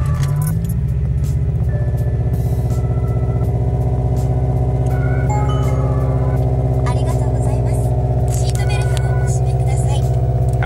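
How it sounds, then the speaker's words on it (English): A car engine runs loud and steady at a cold-start idle, with a constant low rumble throughout and a brief rise at startup, while a person talks over it. "It's kind of a cold start right now, so a little loud"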